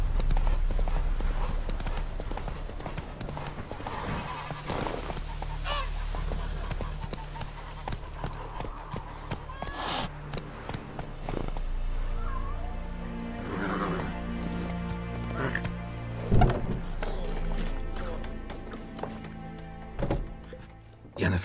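Horse hooves clip-clop at a steady trot in The Witcher 3 Wild Hunt, close and rhythmic over soft game ambience, with brief spoken dialogue and a faint whinny mixed in.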